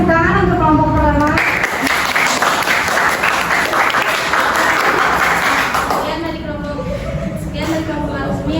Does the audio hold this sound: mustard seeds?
no